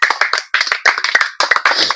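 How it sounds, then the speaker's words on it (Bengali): Several people clap for Shifat, a child contestant, during a money-prize guessing game, in loud uneven bursts of close hand claps that start and stop over about two seconds. "শিফাতের হাততালি"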